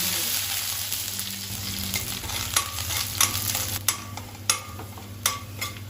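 Mustard seeds and small shallots frying in about two teaspoons of oil for a Kerala curry: a close, steady sizzle with a low hum beneath, punctuated by sharp popping crackles toward the end.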